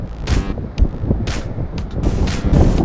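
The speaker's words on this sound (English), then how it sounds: "Look at that wind." Strong wind buffets the microphone during an outdoor bike ride, a loud, continuous rumbling roar with gusty surges that rise and fall throughout, no voices heard.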